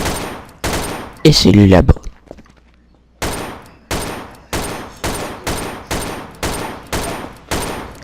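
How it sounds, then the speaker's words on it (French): Gunfire in a police dark roleplay video game rings out in sharp, evenly spaced shots, one loud rapid burst early and then a steady run of single reports after a short pause, with a voice speaking briefly. "Oh, coup de feu, coup de feu."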